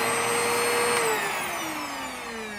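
A Eureka Contour vacuum cleaner motor runs steadily, a loud high whine with a gradually falling pitch, close by and alone.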